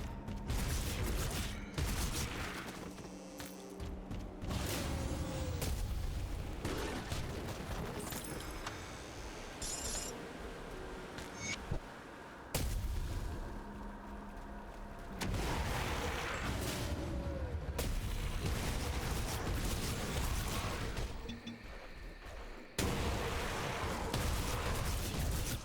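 Explosions from the Grim Dawn action RPG go off in dense, loud bursts of crackling blasts and shattering impacts, with brief sudden gaps between the repeated combat sequences.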